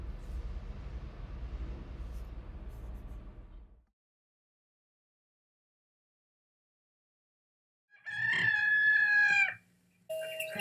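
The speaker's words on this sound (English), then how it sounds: "let's cue the rooster" A rooster crows once, loud and close, after a stretch of low outdoor noise and a few seconds of silence, with a brief clucking call following.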